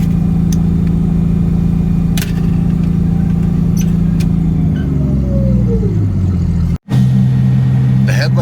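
An old Pontiac with a 6-volt system cruises along, its engine a steady, loud low rumble that drops in pitch as it slows, then picks back up after a brief cut.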